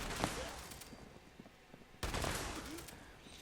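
Shotgun blasts in Fallout 76 go off in two loud, close bursts about two seconds apart, each followed by a short decaying tail and quieter clatter in between.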